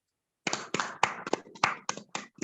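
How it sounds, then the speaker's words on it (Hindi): A small group joins in during an online session, giving about ten distinct, close claps in an uneven rhythm after a moment of silence, sharp and separate rather than a blended roar. "एक बार जोरदार तालियां"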